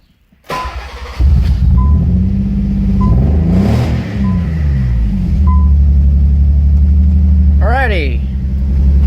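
A Nissan 300ZX engine cranks and catches, then settles into a loud, steady, close idle with a brief rise in revs near the end, after repairs to its fuel injectors and a coolant bypass that fixed a misfire.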